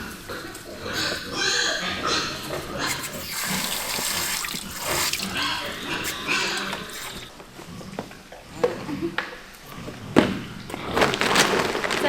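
Piglets slurp and splash at a water-filled feeding trough on a village farm, with running water, wet sloshing and occasional grunts, while people talk nearby.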